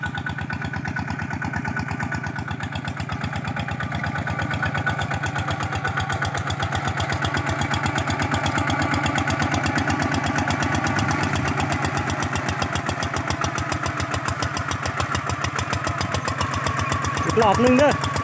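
A walking tractor with a three-disc plough tills rice stubble. Its small engine runs in a steady, rapid chug that stays loud and close for the whole stretch, with a brief louder burst near the end.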